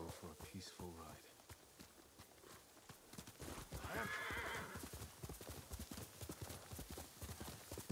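Rhythmic hoof clip-clop of a horse, with a horse whinny rising midway, under game music and ambient sound, in the video game Ghost of Tsushima.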